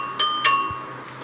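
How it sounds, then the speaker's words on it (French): A two-tone bell on a 1930s all-aluminium bicycle with glued tubes rings twice in quick succession, bright and close, each chime ringing out briefly. "La sonnette 2 tons aussi, c'est bien, ça plaît."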